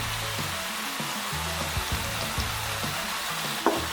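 Seasoning with salt, Maggi and oyster sauce stirred and fried in a pan ahead of asparagus and pak choi, a constant loud hissing sizzle with soft periodic scraping of the spatula, close up and with no voices.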